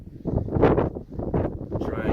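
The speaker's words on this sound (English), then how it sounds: "it's windy as a motherfucker up here. It's like really bad." Strong wind buffets the microphone on the summit of Squaretop Mountain in Colorado, at 13,794 feet. It makes a loud, continuous, rumbling roar that surges and dips throughout.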